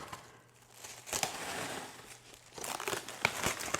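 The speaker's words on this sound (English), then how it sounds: "I'm going to just cover it with some plastic wrap" Plastic wrap being stretched over a bowl of sourdough bagel dough, with close, soft crinkling and rustling in two bursts and a few crisp crackles, and no talk.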